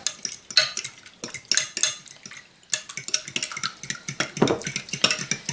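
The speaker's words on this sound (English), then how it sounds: "Now just going to whisk it all together." Eggs being whisked in a bowl for a quiche, with a fast, irregular run of clinking metal-on-bowl strokes that come and go in bursts, close and fairly clear.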